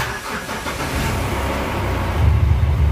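Engine of a Mahindra Bolero turning over and catching after its starter motor was repaired, settling into a rough, rumbling run that grows slightly louder near the end, with no talking.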